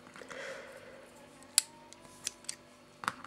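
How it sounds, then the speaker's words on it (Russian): Original and Chinese Parker pens being opened: a quiet rustle, then a few sharp close clicks and snaps from the pen bodies, spaced irregularly over a few seconds. "Открываем ручки."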